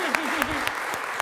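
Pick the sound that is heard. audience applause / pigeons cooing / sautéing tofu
audience applause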